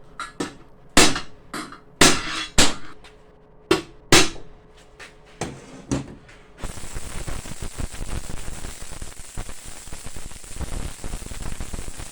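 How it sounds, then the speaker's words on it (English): A hammer striking steel gas bottle stove parts to square them up: a series of sharp, loud metallic whacks spaced irregularly over several seconds, followed by a stretch of dense crackling noise. "I have to give them a hefty whack with the hammer to square them up again."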